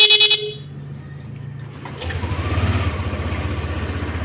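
A motorcycle horn fitted with an interrupter blares in rapid pulsing bursts, then an engine idles and revs with a rhythmic putter; no talking.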